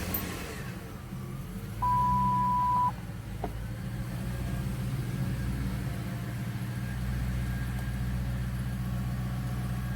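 A 1999 Mercury Grand Marquis starting up and settling into a steady low idle, with a single electronic beep chiming for about a second near the start over the continuous engine rumble.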